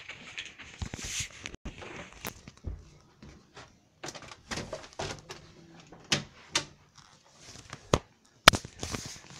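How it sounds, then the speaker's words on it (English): A door being closed nearby, with a scattered series of sharp knocks, clicks and rattles, a few louder bangs near the end, and quiet gaps between them. "I'm gonna close the door."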